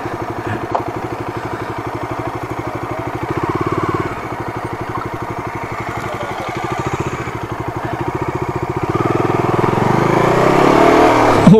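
A motorbike pushes along a rough, uneven track on a road trip near Chinkah, Jammu, its engine chugging steadily close by and rising into louder revving toward the end, with no talk over it.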